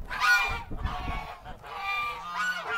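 Several farm geese honk in a loud, close series of bursts, overlapping nasal calls with brief pauses between them and low rumbling underneath.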